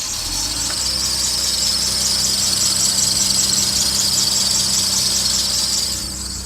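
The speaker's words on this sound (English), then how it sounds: "one thing that I do have to change in this car is the tensioner pulley accessory, because it sounds like absolute trash." A worn tensioner pulley bearing on a 2018 Toyota Supra engine gives a steady, piercing high squeal over a low running engine hum, loud and close, continuous for several seconds without talk.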